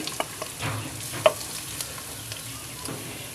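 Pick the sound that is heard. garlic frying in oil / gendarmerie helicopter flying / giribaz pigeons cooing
garlic frying in oil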